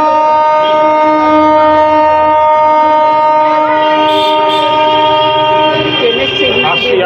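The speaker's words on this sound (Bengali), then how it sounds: "আসছি ট্রেন হর্ন মারছে" A train horn sounds at Naihati railway station, a long steady blast holding through nearly the whole stretch, loud and close, with station bustle and chatter underneath.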